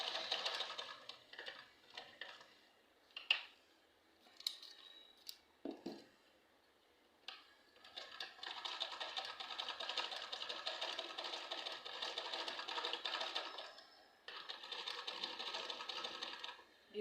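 A sewing machine stitching a round side bag runs in short bursts at first, then hums steadily in long continuous runs with a brief pause, close and clear with no talk.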